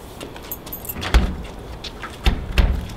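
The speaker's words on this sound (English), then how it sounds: "Door locks." A rim cylinder lock on a push bar exit door locks, giving a few sharp metallic clicks and clunks close by, with a faint rattle like jangling keys.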